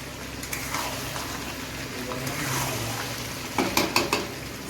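A spoon stirs and scrapes mutton frying in a pan for kosha, with a soft continuous sizzle and a few sharp metallic clinks against the pan near the end, close and moderately loud.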